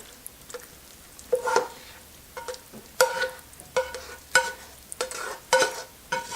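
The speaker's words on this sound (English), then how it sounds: "And we'll go ahead and mix in the sauteed ingredients." Sautéed ingredients being folded into spaghetti squash in a casserole dish, heard as a series of close, soft spoon scrapes and wet squelching strokes at an uneven rhythm, with quiet pauses between.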